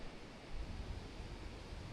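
Ocean waves break at a surf spot at low tide, a faint, distant, steady rumbling wash with soft wind, no voices.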